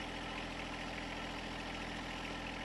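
A John Deere compact tractor engine idles steadily on grass, a low, even rumble with constant vibration and no change in pitch throughout.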